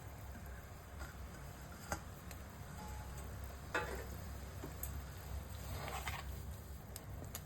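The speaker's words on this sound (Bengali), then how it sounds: "গ্রেভিটা ফুটে গেছে, ভেজে রাখা পুনকো শাকটা দিয়ে দেবো।" Fried punko greens dropped into boiling gravy for a Bengali fish curry give a steady soft sizzle and bubbling, with a few sharp ticks and clinks of a utensil against the pan, all at moderate level and with no talk.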